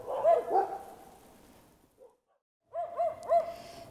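Several dogs in a large pack bark near the camera in Mtskheta, Georgia, a quick burst of overlapping barks, a short lull, then another cluster of yaps and barks.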